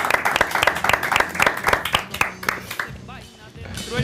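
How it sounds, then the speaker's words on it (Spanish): Studio audience applause at the close of an Argentine TV show segment, loud rhythmic clapping that gives way to music with singing toward the end. "los despedimos con este aplauso"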